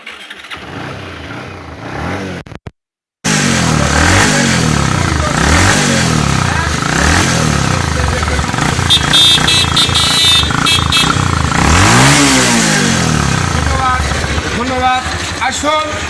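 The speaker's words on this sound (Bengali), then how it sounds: "গাড়িটা আমি স্টার দিয়ে একটু সাউন্ড কোয়ালিটি দেখানোর নেও" A Bajaj Pulsar 150 UG3 motorcycle engine cranks, cuts out briefly, then catches and runs loud and close, with repeated throttle blips rising and falling over a steady idle.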